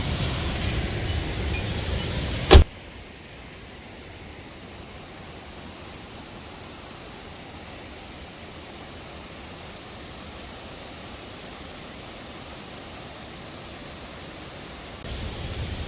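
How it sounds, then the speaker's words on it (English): Steady broadband rushing of Crazy Creek Falls beside the Beartooth Highway fills the clip, loud and continuous, after a brief sharp knock near the start. "It's another waterfall here on this highway."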